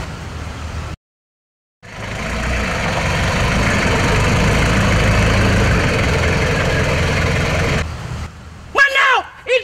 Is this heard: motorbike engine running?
yes